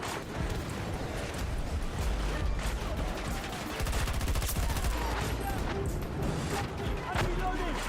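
Video-game gunfire bursts in rapid volleys, with dense, rattling shots layered together under excited shouting from players.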